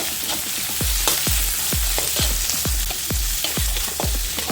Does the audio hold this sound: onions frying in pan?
yes